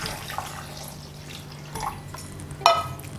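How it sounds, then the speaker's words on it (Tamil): Milk pours into a blender jar over ice cubes and banana for a milkshake, a faint liquid trickle with a few soft drips and a brief splash near the end, all against a low steady hum. "இப்போ பால் சேர்த்துக்கலாம்."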